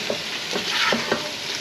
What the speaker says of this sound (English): How long do you cook the shrimp for?